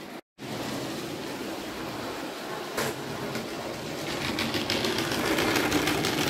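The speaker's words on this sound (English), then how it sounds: "So I'll just quickly sub that out for a different engine, and we'll get going again." A model railway locomotive runs on a seaside-themed layout, giving a steady, close mechanical whirr that continues throughout, interrupted only by a brief dropout near the start and growing slightly louder toward the end.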